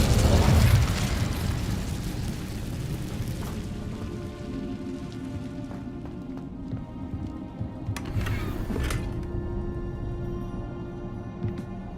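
The Incendio fire spell cast in the Hogwarts Legacy video game opens with a loud whooshing burst that fades into a long, crackling, rain-like hiss with a few later flares, and no talk.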